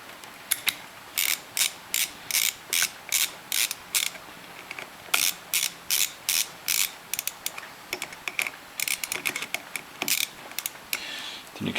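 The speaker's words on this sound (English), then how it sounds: "just go ahead and finish it off with your screwdriver" Quick, repeated clicking ratchet-like turns come from a screwdriver tightening the carburetor cap on a Yamaha Vino scooter, in short rhythmic bursts up close with brief pauses, no voices.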